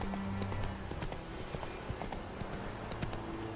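A horse gallops in the video game The Witcher 3: Wild Hunt, a fairly quiet run of rapid, regular hoofbeats clip-clopping throughout.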